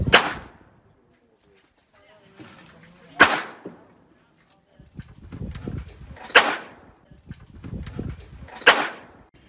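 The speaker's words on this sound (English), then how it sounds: "I put 7 cylinders through it, 35 rounds of this MagTech 38 Smith & Wesson 146 grain" Four loud, sharp shots ring out from an H&R 38 S&W first-model manual-eject revolver firing MagTech 146-grain rounds at an outdoor range, spaced a few seconds apart, each followed by a short echoing tail and low rumbling in between.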